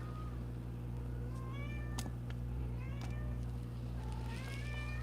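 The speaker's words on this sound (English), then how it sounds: "Sorry, that was the cat." A house cat cries for attention with several drawn-out, rising meows spread across the stretch. The cries are fairly close and clear over a steady low hum, with no talking.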